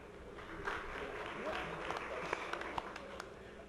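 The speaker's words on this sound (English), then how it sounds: "It's first round of applause at any of these presentations." A brief round of clapping from attendees follows a university work plan presentation to the board, a fairly quiet, scattered patter of hands in a meeting room with some voices underneath.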